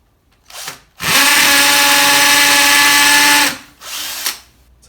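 A hammer drill set to hammer action bores into a brick wall behind plaster, giving one loud, steady, grinding roar for a few seconds, with faint voices just before and after.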